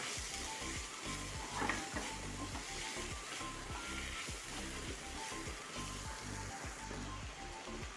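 Chicken stirred with turmeric powder in a hot pan for pepper chicken, a fast rhythmic scrape of the spoon repeating over a continuous sizzle, close and steady with no speech.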